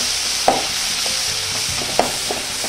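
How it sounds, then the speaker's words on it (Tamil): Onions and tomatoes for a mutton curry sauté in a hot pan with a steady sizzle, while a spoon scrapes and stirs in a few distinct strokes, close and clear with no talking. "இப்போ நல்லா வதக்கிக்கோங்க."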